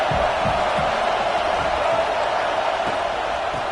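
A stadium crowd roars steadily in the College Football 26 video game during a Utah at Oklahoma matchup. The noise is a dense, loud, continuous wash that holds its level throughout.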